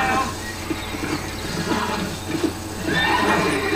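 A horse neighs and whinnies in the Red Dead Redemption video game, a loud repeated call sounding steadily over busy in-game background noise, with a stronger burst of neighing near the end.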